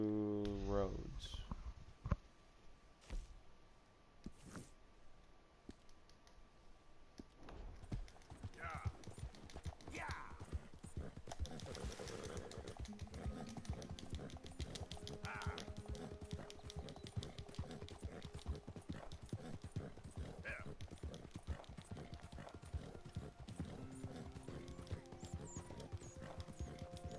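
In a cowboy video game, a horse's hooves clip-clop in a steady, even rhythm at a riding pace, close and continuous, with someone talking over it at times.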